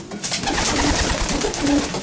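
A Hermes pigeon coos in a loft, its low repeated coos standing out clearly and close over a busy background of other birds.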